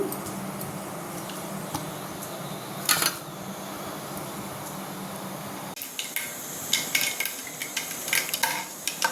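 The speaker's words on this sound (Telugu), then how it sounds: "తాళింపు గింజలు వేగిపోయాయి" Tempering seeds frying in a pan for a broad bean and tomato curry, giving a soft steady sizzle with occasional clinks of a spoon against the pan, close and moderately quiet with no talk.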